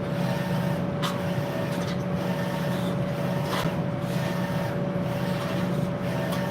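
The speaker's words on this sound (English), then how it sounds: "The dryer and vacuum is about to come on." A constant loud mechanical roar and hum of a clothes dryer and vacuum cleaner running together, steady and unbroken throughout.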